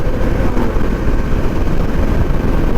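A shirt collar flapping hard in the wind during a motorcycle ride, producing a loud, constant rapid fluttering roar mixed with wind rush and engine noise, very close to the microphone.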